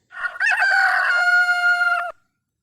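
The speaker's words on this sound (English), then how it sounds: "Rooster." A rooster crows once, loud and near, in a full cock-a-doodle-doo that rises, holds a long strained note, then stops abruptly into silence.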